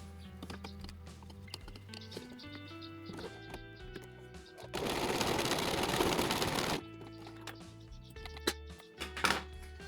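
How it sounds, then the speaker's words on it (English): A sewing machine stitches a folded apron edge in a dense, steady burst of whirring for about two seconds mid-clip, surrounded by quieter tonal hum and handling clatter. "now we're just gonna fold this back and do a stitch on there"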